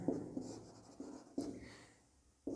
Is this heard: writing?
yes